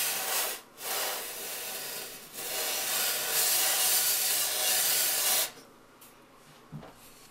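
A can of compressed air sprays onto a CPU heatsink in loud broad hissing bursts: a short blast, a second burst, then a longer sustained spray of about three seconds before it cuts off, leaving faint handling noise.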